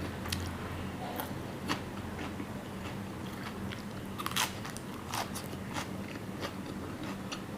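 Someone eats Isan sausage with fresh chili and ginger: close, repeated crunchy bites and wet chewing in an irregular rhythm, fairly loud, with no talking.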